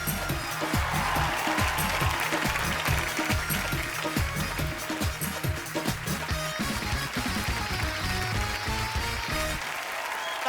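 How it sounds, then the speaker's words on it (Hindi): Loud, sustained audience applause at an Indian comedy show as guests are welcomed, dense clapping that stays steady throughout and eases slightly near the end. "तालियां और जोरदार होनी चाहिए।"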